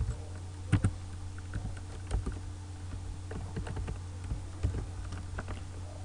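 Keystrokes tapped on a computer keyboard while commands are entered into MongoDB, sparse clicks and a few heavier key presses spread across a steady low hum, fairly quiet and close.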